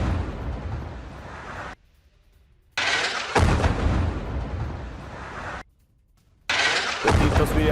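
Two bursts of loud, rumbling blast noise from missiles striking Tel Aviv, each lasting a few seconds, separated by sudden silences, sounding like distant explosions recorded on a phone.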